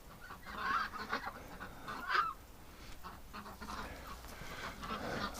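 Ducks calling in winter, a few honking, goose-like quacks rising at intervals over a steady outdoor background, moderately close, with no talking.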